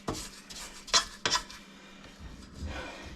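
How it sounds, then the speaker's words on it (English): A spatula scrapes muffin batter around a mixing bowl, a few soft rasping strokes with a couple of sharper clinks against the bowl, close and fairly quiet. "let me go ahead and scrape down the mix here"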